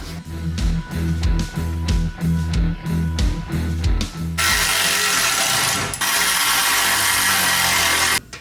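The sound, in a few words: reinstalling exhaust on a 1965 Ford Mustang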